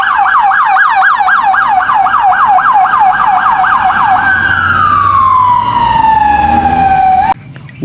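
A toy ambulance siren wails loudly and close in a rapid rising-falling warble, then shifts to a single long falling tone before cutting off abruptly.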